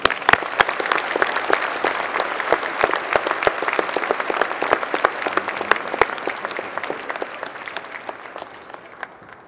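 Sustained applause from a large commencement audience at an engineering school ceremony fills the hall, dense and steady with individual claps standing out, fading slightly toward the end.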